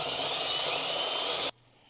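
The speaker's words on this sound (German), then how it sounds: "ich lasse den Bohrer einfach nur in dem Loch kreisen und hoffe, dass es nicht springt" A drill bit grinds a hole into a flower pot with a steady, loud, high whining buzz that runs without pause, then cuts off abruptly, leaving quiet.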